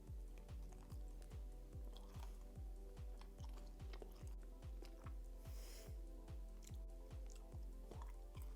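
Steady rhythmic chewing of a 100 Grand candy bar during a taste test, about twenty regular close bites with low thumps and sticky crunchy clicks, no talking.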